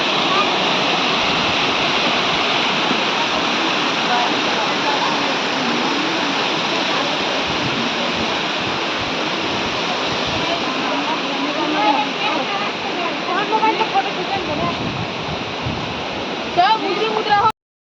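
A waterfall at Amarkantak in Madhya Pradesh pours in a steady, loud broadband roar throughout, with a voice faintly audible beneath the rushing water.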